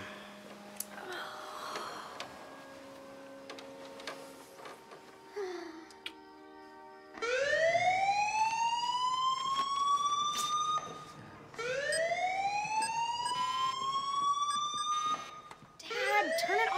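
A home security alarm blares in a comedy film, starting with quieter beeps and tones, then loud rising electronic sweeps repeating in long bursts, with a brief gap before the wail resumes.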